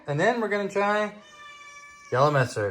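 A house cat gives a single drawn-out, fairly quiet meow in a kitchen where steak is being seasoned, falling in a pause between stretches of a person talking.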